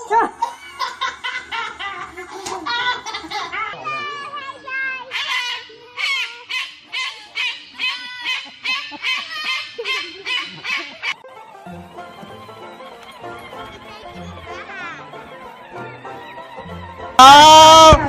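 Geese or ducks honking repeatedly in loud, rhythmic bursts close by, with a brief loud squawk near the end; occasional voices and laughter mix in.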